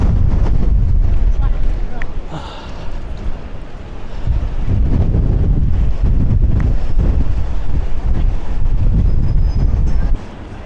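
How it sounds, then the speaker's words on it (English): Strong wind gusts and rain at night in Blackpool, heard as a loud, steady roar of wind buffeting the microphone for the whole stretch, with no voice heard. "We've got the highest gusts at the moment, up to 65 miles an hour happening right now"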